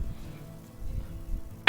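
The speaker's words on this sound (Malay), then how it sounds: "batuk" One sharp cough bursts out close and loud at the very end, after a quiet stretch of low rumbling room noise in the Life is Strange 2 video game.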